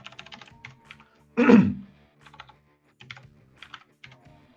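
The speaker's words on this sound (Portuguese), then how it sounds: "Eu vou até digitar essa frase aqui agora." Light clicks of typing on a computer keyboard come in short scattered bursts, broken by one louder thump, with quiet stretches between them and no talk.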